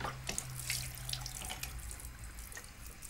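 Water runs from a tap into a sink, a close, steady splashing gush that continues throughout the few seconds, with no talking.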